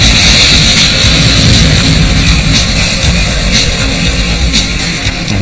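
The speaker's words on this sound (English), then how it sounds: "pilot one of the most nimble jets in the U.S. military, the F-22, nicknamed the Raptor" An F-22 Raptor fighter jet flying, heard as a loud, steady roar of engine noise with broad rumbling and hiss, close and sustained with no pauses.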